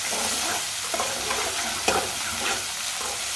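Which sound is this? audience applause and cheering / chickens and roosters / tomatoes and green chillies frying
tomatoes and green chillies frying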